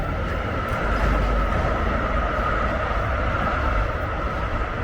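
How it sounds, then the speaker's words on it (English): A train rumbles past nearby in Hayes, heading toward Slough and central London, a loud, continuous roar of wheels on rails that holds steady throughout. "the train running down towards Slough and into central London"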